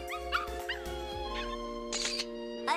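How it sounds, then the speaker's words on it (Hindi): A cartoon dog barks and whimpers in a few short, high, tonal yelps over a steady animated-show soundtrack, with no voices. "मॉम, अभी मैंने एक डॉग की आवाज सुनी।"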